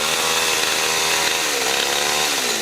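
A weak, struggling power saw cuts into wood, its dense, rough buzz droning close and loud without pause, the pitch dipping slightly as the blade bogs down in the log.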